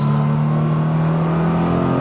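Fully restored 1969 Porsche 911 E engine running at steady revs, a loud, close, continuous droning hum with no talking.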